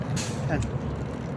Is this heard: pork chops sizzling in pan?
no